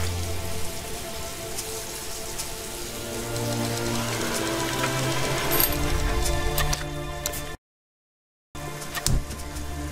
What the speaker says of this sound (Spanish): Y ahora es que llueve.